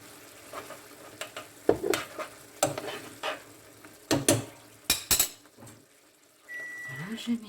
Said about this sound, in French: Voilà, je mélange.